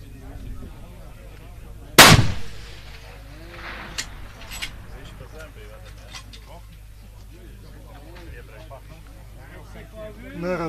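A single sharp rifle shot cracks loudly at a long-range shooting competition, followed by a fainter report, with people talking in the background.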